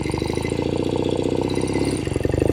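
A 1970 Royal Enfield Interceptor 750 Mk II motorcycle engine runs close by, with a steady, throbbing idle that holds its even beat throughout. No one speaks.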